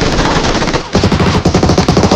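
Rapid automatic gunfire in the mobile shooter game Peace Elite, loud sustained bursts of shots with a short break before the firing resumes in a fast, steady rhythm.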